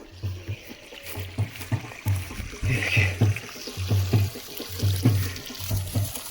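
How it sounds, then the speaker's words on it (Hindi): Water running into an emptied hillside farm field in the mountains, prepared for pea sowing; a steady outdoor trickle and gurgle plays with repeated low rhythmic thumps, moderately loud and close, with no talking. "सबसे पहले इसमें पानी डाल लेते हैं। ये देख सकते हैं पानी यहाँ पहुँच चुका है।"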